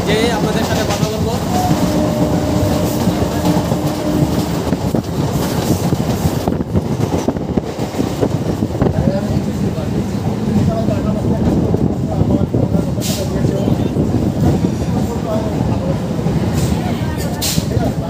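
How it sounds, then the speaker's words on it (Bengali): A Bangaon–Ranaghat local train running on the tracks, with a loud, continuous rumble and clatter of carriages heard from inside, a voice speaking over the steady roar. "আমাদের ট্রেন এসে পৌঁছালো গোপালনগর স্টেশনে।"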